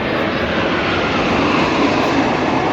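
An airplane flies overhead, its engine a loud, steady roar that fills the whole stretch without a break and with no voices.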